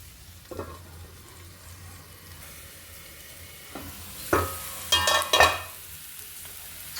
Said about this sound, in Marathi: बघा किती छान मस्त असे परतले गेलेले आहे